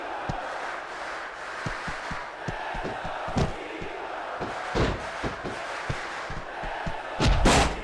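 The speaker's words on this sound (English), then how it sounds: "This capacity crowd is on its feet." A large arena crowd roars and cheers continuously in the SmackDown vs Raw 2006 wrestling video game, with repeated heavy thuds and slams punctuating the din and a louder surge near the end.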